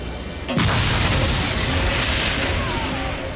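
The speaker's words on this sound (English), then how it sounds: "Ah! Explosions!" A sudden loud blast hits in Agents of Mayhem, then rolls into a long, roaring rumble that keeps going without fading.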